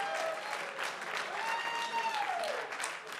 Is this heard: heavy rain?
no